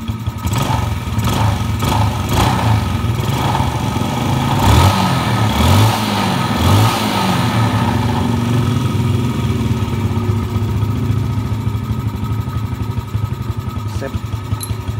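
A motorcycle engine idles smoothly and steadily at low RPM after a fuel problem was fixed, giving a continuous, close hum with a few brief bursts of rising revs early on.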